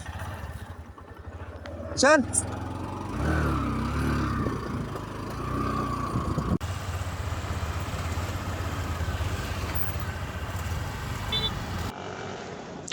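A motorcycle carrying riders on a village road starts up and rides off, a steady mid-pitched engine drone running continuously under voices and talk, with a brief sharp squeal near the start.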